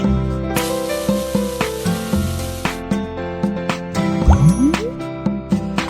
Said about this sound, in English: pour the milk.